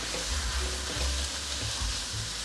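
Mushrooms and drained wakame seaweed stir-fry in hot oil, a steady close sizzle and crackle running unbroken with soft scraping of the spatula through the pan.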